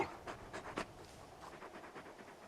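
Torgal, the large dog companion in Final Fantasy XVI, pants in quick, steady breathy bursts close by, with a faint whimpering edge and no talk.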